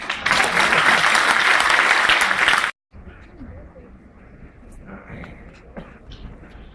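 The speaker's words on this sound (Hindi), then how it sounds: "जोरदार तालियों में इस्तकबाल के लिए सुनील कुमार" A crowd at a poetry gathering claps loudly and densely for a poet, then the applause cuts off abruptly, leaving quieter room sounds, scattered movement and a few faint claps.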